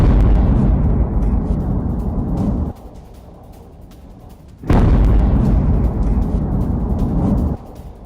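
Heavy blasts from strikes on Tehran during the US-Israel attacks on Iran: two long stretches of loud, rumbling roar with a quieter lull between them, and no speech.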